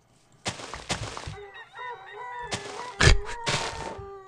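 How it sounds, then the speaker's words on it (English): Loud rooster crows from a video game ring out in several bursts, overlapping cackles and calls with short gaps between them. "Those are roosters crowing."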